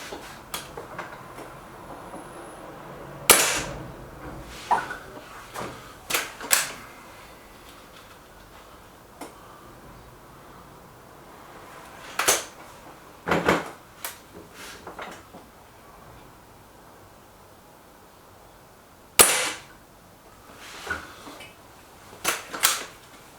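A .22 air rifle, the Express, fires pellets in a handful of sharp, spaced cracks, each a short snap with quieter mechanical clicks and handling noise in between.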